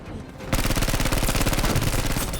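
Rapid automatic gunfire from a shooting video game bursts in after a brief quieter moment and continues as a dense, evenly pulsed stream of loud shots to the end.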